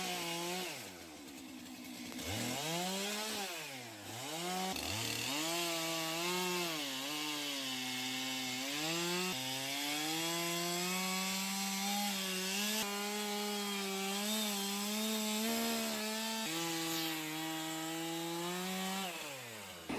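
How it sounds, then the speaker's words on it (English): Chainsaws roar steadily while cutting fallen trees, the engine pitch rising and dipping as the chain bites into the wood, loud and close throughout with no talking. "Yet pros step in, chainsaws roaring"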